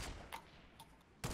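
Sporadic gunfire between players in a Fortnite match, a few sharp distant shots spread across a brief stretch, the last one louder and closer.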